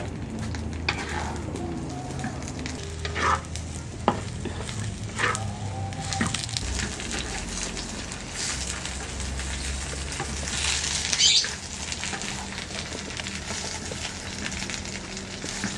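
Eggplant sizzling as it fries in a pan of hot oil in a home kitchen, with a steady crackle and occasional stirring and scraping sounds throughout, fairly close and continuous.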